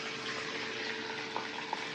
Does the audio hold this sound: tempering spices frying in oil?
yes